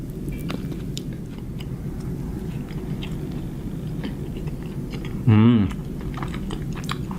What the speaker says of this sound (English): I'll try some of this cheese.